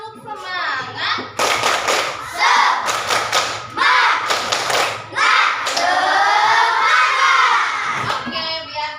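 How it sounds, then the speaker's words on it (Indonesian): Children in a classroom do a rhythmic group spirit clap, led by a teacher. Loud bursts of clapping and desk thumps come in a patterned beat, mixed with shouted chanting and voices. "mari kita tepuk semangat dulu ya"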